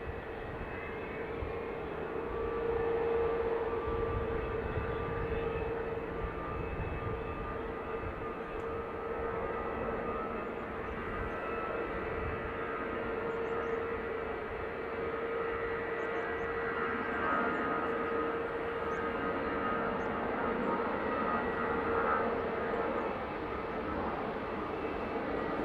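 An airliner arrives on the north runway at Dublin Airport, its steady engine roar sustained and fairly distant, holding at an even level throughout with no voices.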